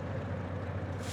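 A DM3 locomotive's air brake in Derail Valley releases with a steady low hiss over a rumbling engine idle, the hiss brightening at the end.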